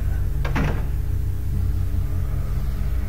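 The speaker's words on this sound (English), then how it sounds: "Let's open up this door." A door in the horror video game Silent Hill opens with a short double clunk near the start, then a low steady rumbling drone fills the rest.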